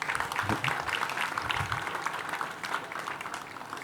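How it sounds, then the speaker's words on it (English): Applause from the audience at a university congregation ceremony, a steady round of clapping that fades slightly toward the end, with some faint voices beneath it. "I think he deserves another round of applause"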